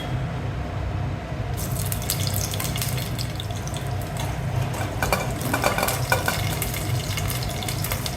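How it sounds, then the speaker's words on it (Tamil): Green chillies, garlic and onion sautéing in a pressure cooker for butter beans pulao, a steady close sizzle with stirring clatter and scraping, no voices. "பச்சை மிளகாய் பூண்டு பல் வெங்காயம் சேர்த்து ஒரு 20 செகண்ட்ஸுக்கு வதக்கிக்கலாம்."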